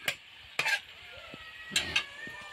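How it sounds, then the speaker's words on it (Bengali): Cabbage stirred in a frying pan with dried and green chilli paste, a few quick bursts of scraping and clattering utensil strokes over a light sizzle, no voices. "দিয়ে একসাথে নাড়াচাড়া করতে হবে।"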